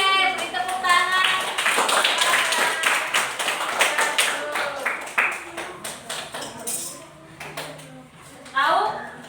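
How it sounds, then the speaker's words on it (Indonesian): Students in a classroom clap together in a dense, fast burst of hand claps that fades over several seconds, with a teacher's voice and children's voices mixed in. "Oke, beri tepuk tangan."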